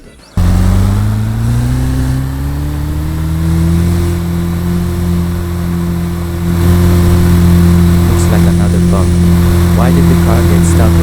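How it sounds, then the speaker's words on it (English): A car engine driving in a Roblox desert game: a steady droning mid-range engine hum held at constant speed, loud and continuous, with someone talking over it. "Why did the car get stuck at 40 kilometers per hour?"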